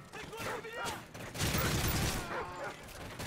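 A grenade explodes during a Call of Duty Modern Warfare 3 Survival Mode match on the Boardwalk map, a loud burst and rumbling blast amid game noise, with someone talking over it.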